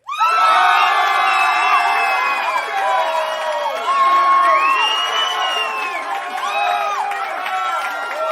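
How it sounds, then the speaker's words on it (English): A crowd of resistance members in the game Plain H: Necrosis cheers with many overlapping shouts and whoops. The cheering starts abruptly and stays loud and dense throughout. "the entire resistance is cheering for you"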